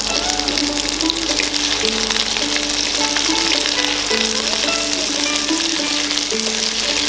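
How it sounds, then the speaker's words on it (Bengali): Yardlong beans fry in a pan among mixed vegetables, a loud, dense, continuous sizzle close by over a steady background tone, with no voices present. "এরপর বরবটিগুলোকেও ভাজার জন্য দেব।"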